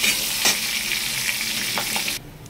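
Shrimp frying in oil in a pan, a loud, close, steady sizzle with a few soft stirring clicks, cutting out abruptly near the end.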